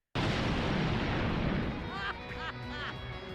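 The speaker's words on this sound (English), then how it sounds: "What flipping fireworks!" A loud burst of fireworks-style explosion in a Dragon Ball fighting game finishing move, a sudden booming blast that rumbles on, with sharp whistling streaks crackling near the end.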